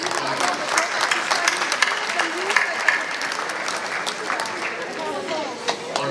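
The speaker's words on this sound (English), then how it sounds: "Just want to give a round of applause to all." Audience applause fills a fundraising dinner hall, a steady dense wash of many hands clapping throughout, with faint crowd murmur and voices mixed in beneath.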